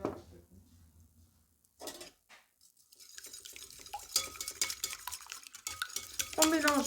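A whisk or fork beats three eggs in a bowl. The scraping and clinking starts faint and broken, then turns into steady, brisk stirring that gets louder toward the end. No one speaks.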